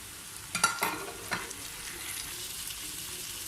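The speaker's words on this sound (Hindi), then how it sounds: "अब मैं आंच स्लो करके ये टमाटर, बंद गोभी और शिमला मिर्च डाल रही हूँ।" Chopped tomato, cabbage and capsicum hit a pan on low heat, giving a few clattering scrapes early on, then a soft, even sizzle that carries on alone.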